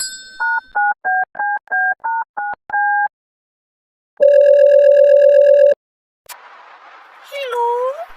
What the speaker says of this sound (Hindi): फोन लगाइए आप। लगा रहे हैं यार।